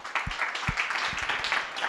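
Audience applause at a MAKEathon event, a steady wash of many hands clapping at moderate volume with a few heavier low thumps, continuing throughout without speech.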